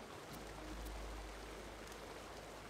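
A waterfall in the video game Tiny Tina's Wonderlands rushes steadily as a soft, continuous broadband wash with a low rumble, faint and unbroken, with no talking.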